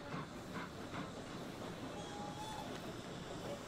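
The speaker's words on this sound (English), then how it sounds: "in the background I heard a train" A steady, rumbling roar with a hissing wash runs throughout, like a train rolling past at a distance, with no talking.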